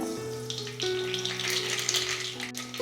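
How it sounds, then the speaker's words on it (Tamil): Crackling, spluttering sizzle of seeds popping in hot oil, continuous and fairly close, with a low steady hum beneath. "கடுகு நல்லா பொரிஞ்சிடுச்சு"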